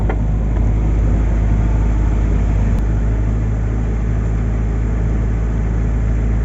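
Mitsubishi Mirage engine being cranked after driving through typhoon floodwater, heard as a steady, loud, close mechanical rumble that holds without a break from start to finish, with no voices.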